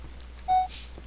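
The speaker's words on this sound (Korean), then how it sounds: "삐삐 소리 빨라졌어." Single electronic beep in a Minecraft escape map, a clear steady tone about a fifth of a second long, standing out alone over a quiet low hum.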